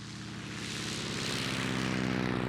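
A Stearman biplane's propeller engine drones steadily in flight, a loud, close, continuous buzzing hum that swells slightly, with no voices.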